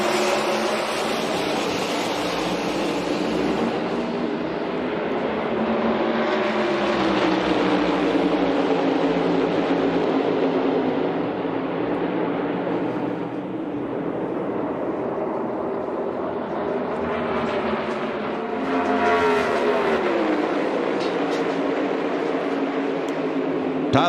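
Stock car engines roar continuously as cars race past at Darlington's Goodyear 400, pitch rising and falling with passing vehicles, loud and sustained.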